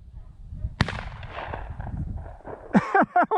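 A single sharp gunshot cracks out near the start of a rabbit hunt outdoors, followed by rustling and a few short shouted voices toward the end.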